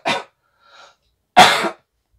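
Two distinct coughs from a man with a runny nose, close and loud, separated by a faint breath, then silence.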